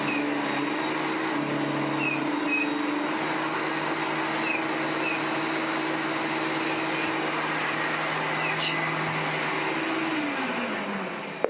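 A 1991 Electrolux Glider Z1250 vacuum cleaner runs steadily with a loud, continuous whirring drone and a tonal hum, winding down near the end.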